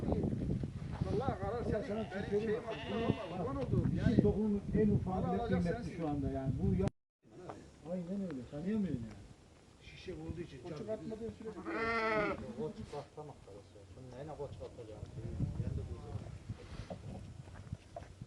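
Akkaraman sheep bleat repeatedly and overlap one another in a noisy flock at a village, with people talking faintly in the background and some shuffling.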